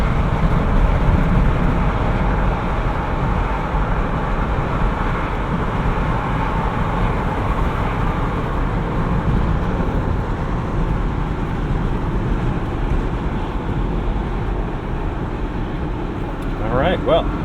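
Cabin of a 2017 Jeep Wrangler Unlimited manual cruising at 70 mph near 2,000 RPM. Constant low engine drone and road roar run throughout, with people talking over it.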